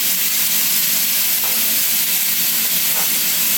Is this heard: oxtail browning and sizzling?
yes